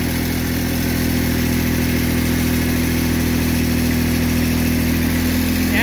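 Massey Ferguson GC2310 compact tractor moving forward on hydrostatic drive, its engine running at a steady, loud, even drone with constant hum and no talk.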